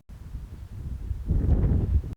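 Wind gusting over a tulip field planted with multicoloured Dutch bulbs, a low steady rumble of air against the microphone that swells louder toward the end, with no voices.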